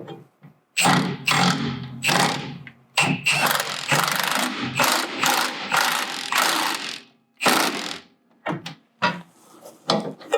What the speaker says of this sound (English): I'd use the ratchet as long as you can,